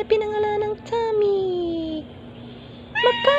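Pet cats meowing at home, several loud close drawn-out meows, one long falling cry in the middle, over a faint steady hum.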